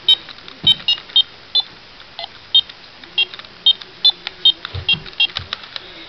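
A Power Rangers Wild Force morpher toy gives a string of short high electronic beeps as its buttons are pressed, about a dozen chirps at irregular intervals, close up with faint handling noise.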